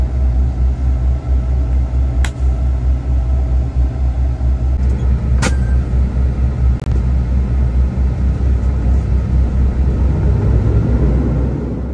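A truck's diesel engine rumbles steadily and heavily as it idles and pulls away from a trailer, a low, continuous drone with a couple of brief sharp clicks, close and without talk.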